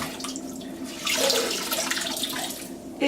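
Running water rinsing soap out of a Glov makeup-removal glove, a close, steady splashing flow that surges louder midway, with no talk.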